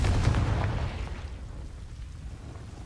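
A Confringo spell explosion from Hogwarts Legacy booms loud and close at the start, a deep rumbling blast that slowly decays into a fading roar.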